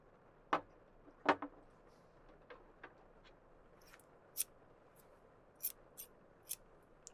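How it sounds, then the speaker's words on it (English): Sharp, isolated snips of scissors cutting, a handful of crisp clicks spaced irregularly over a quiet background. "they are wonderful for snipping away"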